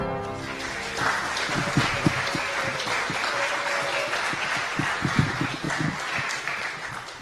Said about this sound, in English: big round of applause, please, for Mr. Marcus Allen.